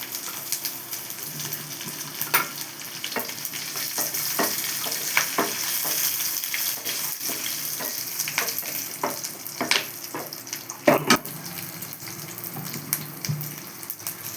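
Onions and curry leaves with mustard seeds fry in hot oil in a pan for an egg curry, giving a steady close sizzle broken by periodic scrapes and clatters of stirring, with no talking.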